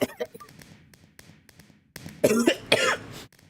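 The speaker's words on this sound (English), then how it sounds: "I can't even laugh properly because I'm gonna cough" A streamer coughs during a weekend livestream: a few faint throat sounds and breaths, then two loud, harsh, close coughs in quick succession, no speech.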